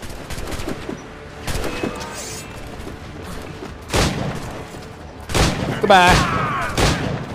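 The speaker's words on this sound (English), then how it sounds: "Just whip out my gun, start shooting everybody." Gunshots from a player's gun in the pirate naval game Assassin's Creed IV Black Flag, a few loud, sharp bursts scattered through the scene, mixed with other game sounds and a voice speaking.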